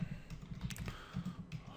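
Fingers typing on a computer keyboard, a faint, quick series of soft clicks and taps in an uneven rhythm, heard close up in a quiet room with no voice.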